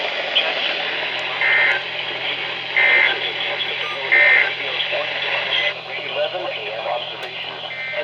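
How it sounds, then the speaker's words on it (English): Emergency Alert System end-of-message tones, heard as three short, evenly spaced bursts of warbling digital data over a steady broadcast background. "That's the EOMs."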